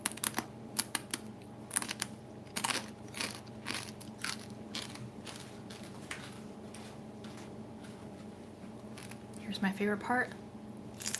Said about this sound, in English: Here's some fish skin ASMR for you.